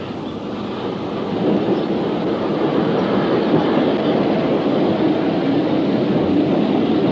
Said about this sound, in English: It's on its very last steam-haul trip down its entire route to Roberts Bridge.